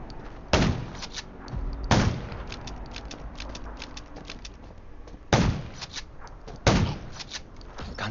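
Four loud, sharp gunshots ring out at uneven intervals against zombies in the video game Undawn, each with a short echoing tail, over a faint background of scattered small sounds.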